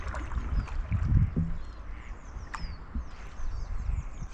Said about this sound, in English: A few ducks and swans around at the moment.